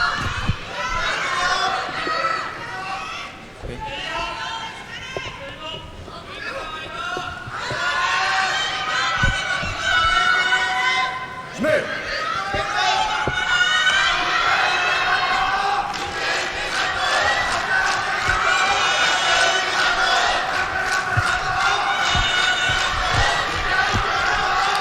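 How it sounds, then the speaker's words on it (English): A judo arena crowd in Osaka cheers and shouts in sustained waves, loud and continuous, with sharp bursts of voices rising over a busy hall din. "A lot of cheering from the crowd."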